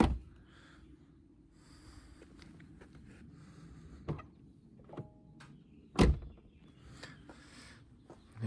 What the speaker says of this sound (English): And the way the doors shut,